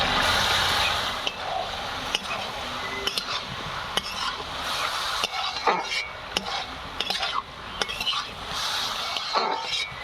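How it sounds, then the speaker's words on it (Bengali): Taro being sautéed in a pan for a prawn and ghat kachu dish, with a spatula scraping and tapping in irregular strokes over a loud, steady close sizzle. "কচুটা দিয়ে আমার ভালো করে কষানো হয়ে গেছে"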